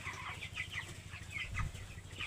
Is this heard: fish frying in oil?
no